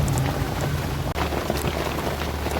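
Steady rain falling in the dense jungle of Kaziranga National Park near a waterhole, a continuous close hiss of drops with a low rumbling undertone and a brief dip in the middle.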